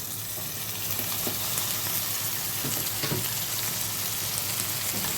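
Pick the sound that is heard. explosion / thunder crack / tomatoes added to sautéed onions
tomatoes added to sautéed onions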